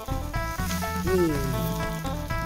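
Eggs with cha-om sizzle and fry in a dimpled pan, a steady close crackle and hiss that runs the whole time with faint background sounds mixed in.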